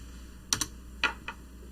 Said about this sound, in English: So I'm going to just type in Apple in here.